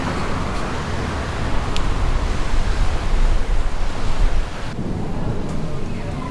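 Ocean surf rolling in at Palm Beach, Florida, a steady broadband wash of breaking waves with wind buffeting the microphone, swelling slightly in the middle and continuing without pause.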